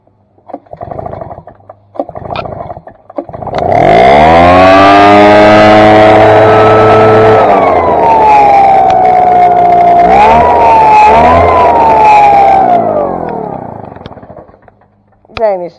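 Handheld small gas engine, likely a trimmer or blower, roars to life after a pull-cord cold start, following a few short pulls; it runs loud and steady near the listener, with a tonal whine drifting in pitch.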